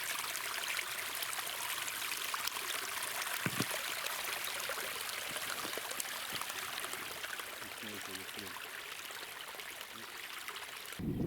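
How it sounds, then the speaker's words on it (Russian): Iron-rich spring water gushing from a riverbank along the Sylva river, a steady close trickling and burbling flow that continues alone throughout. "в поле нашего зрения попал родник, бьющий из него"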